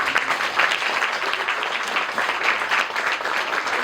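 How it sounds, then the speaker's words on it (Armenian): A crowd applauding the parents of pupils at a school celebration, steady dense clapping that runs the full few seconds at moderate loudness with no voices over it. "Ես ծափահարում եմ ձեզ"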